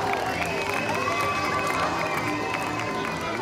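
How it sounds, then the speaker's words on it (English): Parade crowd at the 2011 CSU Homecoming and Family Weekend parade cheering and shouting, with children's voices and a dense, continuous wash of outdoor crowd noise and some clapping throughout. "Come on, crowd, let's give a little support. Let's clap along."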